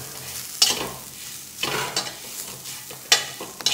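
Dried shrimp chutney mixed with onion in a pan, heard as several scraping, rustling stirs with faint spoon clinks and a light sizzle, close and without voices.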